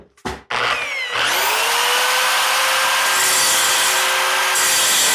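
A drill fitted with a hole saw but no centre bit cuts into wood: a brief opening burst, then a loud, continuous grinding whine with steady tonal ringing that holds to the end.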